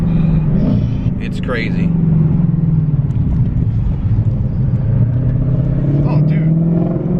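A 2020 Shelby GT500 rumbles loudly at quarter throttle with a deep, steady engine drone that swells slightly, heard from inside with excited voices talking over it.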